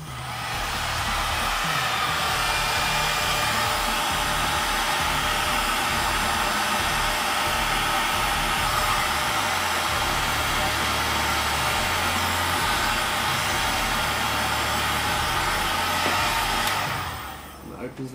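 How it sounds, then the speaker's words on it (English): Heat gun blowing on scored craft foam for a sword and scabbard build, a loud continuous whooshing roar held steady for the whole stretch before cutting off near the end. "get your heat gun and heat those cuts you just made"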